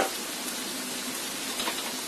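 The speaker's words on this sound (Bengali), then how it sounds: "এখন এই চিকেনের সাথে দিয়ে দিচ্ছি আমি 2 টেবিল চামচ টমেটো কুচি" Chicken frying in a pan with chopped tomato added, giving a constant hissing sizzle that stays even and close throughout, with no one talking.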